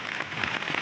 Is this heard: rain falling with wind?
yes